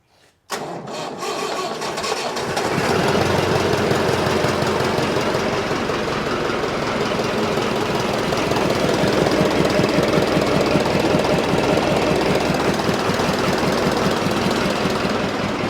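The old engine of an abandoned crane cranks and catches, then settles into a loud, rough, knocking idle that runs steadily without being revved.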